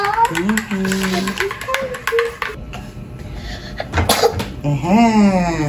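One sharp sneeze bursts out partway through, with voices talking before it and a voice speaking just after.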